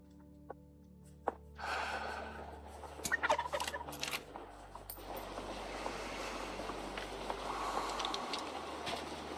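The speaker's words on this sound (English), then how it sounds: "what is that, a turkey or turkey?" A turkey gobbling in the hunting video game Way of the Hunter 2, a few sharp calls followed by a rattling gobble burst, then a steady outdoor ambience of wind and rustle without speech.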